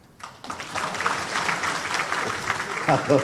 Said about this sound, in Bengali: এখন তো তালি হলো